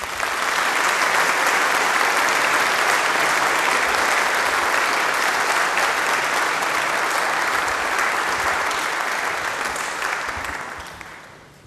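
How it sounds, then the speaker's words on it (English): Sustained audience applause fills a concert hall, loud and steady for about ten seconds before tapering off at the end. "I think we can give her another round of applause"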